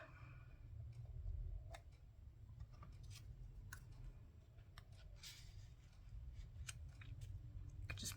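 Scissors snip through ribbon during Christmas card making, a scatter of short, faint clicks and cuts over a low background rumble, with no clear talking.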